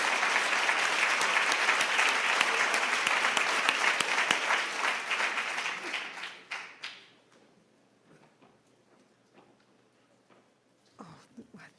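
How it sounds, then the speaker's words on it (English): Audience at a scholarship awards and hall of fame induction ceremony claps loudly for the inductees and champions for about six seconds, then the applause tapers off into a quiet room with a few scattered soft knocks. "let's go ahead and give all of the inductees and our champions"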